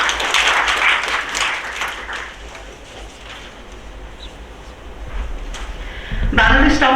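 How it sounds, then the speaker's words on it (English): An audience at an award-giving ceremony claps, a loud burst of applause fading to a low murmur of crowd noise before rising again at the end. "Let's have a huge round of applause for all our partners and supporters."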